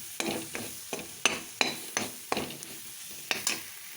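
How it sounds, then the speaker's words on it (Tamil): Repeated scraping and stirring clatter in a pan over a soft frying sizzle, about eight sharp strokes at an uneven pace, as spice powders and vegetables for pav bhaji fry together on low heat. "இதில் எல்லாம் ஒன்றா சேர்ந்து வதங்கட்டும்."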